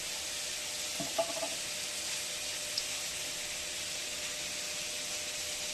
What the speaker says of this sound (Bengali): এবার আমি এর মধ্যে দেব একটু কালো জিরে ফোড়ন।